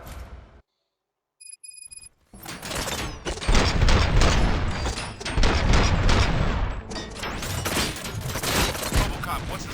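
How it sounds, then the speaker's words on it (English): Gunfire erupts in the video game RoboCop: Rogue City, a dense loud fusillade of rapid shots and bursts running continuously after a short quiet moment and a few electronic beeps. "Gunshots? What's going on?"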